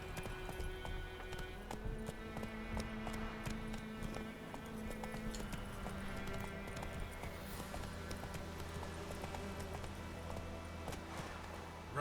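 Roach the horse gallops in The Witcher 3, a steady, rapid clip-clop of hooves over ambient game music and background sound, with no voices.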